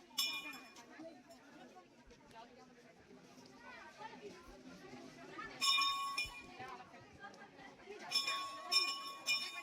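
Temple bell at Gupteshwar temple in Koraput, Odisha, struck a couple of times with bright metallic clangs, ringing over steady chatter and voices of a group climbing the temple steps.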